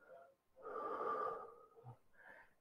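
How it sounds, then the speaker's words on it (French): Slow, deep breathing during a stretching session: one long, close, audible exhale, with softer breaths before and after. "Respiration régulière, lente, profonde."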